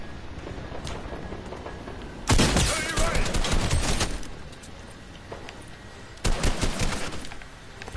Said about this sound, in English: I'm shooting at it with a green pistol